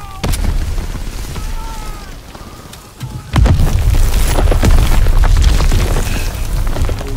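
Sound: explosions in video game Call of Duty WWII

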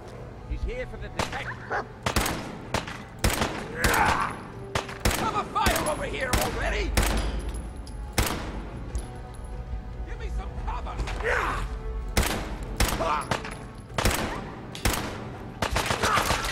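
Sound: gunfire from shooting an enemy in the face, Fallout 4 video game

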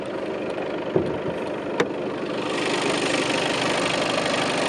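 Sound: Skoda Superb Scout 2020 engine idling

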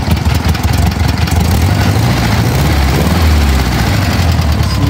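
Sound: 1971 Volkswagen Fusca (Beetle) engine idling

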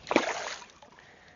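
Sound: fish splashing in river water

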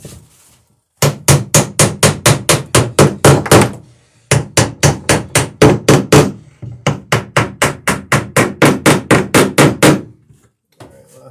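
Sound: ball peen hammer striking nails

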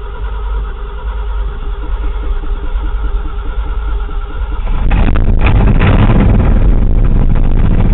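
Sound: 1979 Ford F250 engine starting after sitting three weeks

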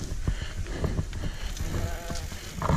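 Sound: sheep bleating

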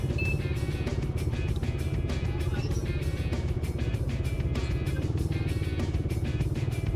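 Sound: motorcycle passing on street

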